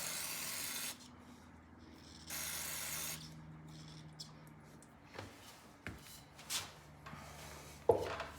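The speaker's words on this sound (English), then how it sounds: "Gonna spray this off." Two loud hissing bursts of spray from a can hit Briggs and Stratton lawnmower parts close up, each lasting about a second, followed by quieter rubbing and a few light knocks and clatters of the parts being handled.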